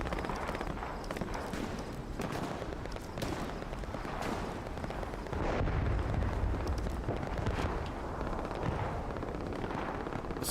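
A bombing run in a video game battle brings a dense, continuous barrage of explosions and gunfire, loud and unbroken, with heavier rumbling blasts swelling midway.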